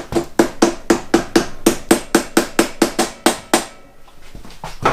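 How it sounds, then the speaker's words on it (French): Soft mallet striking an aluminium part on a Ducati motorcycle: about fifteen evenly spaced, sharp knocks, loud and close, then a short pause before one more blow begins. "je tape avec un maillet mou. Ouais, Ça n'abîme pas l'aluminium"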